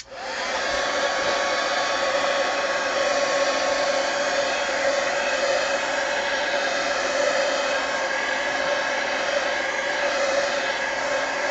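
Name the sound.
heat gun drying paint on art journal page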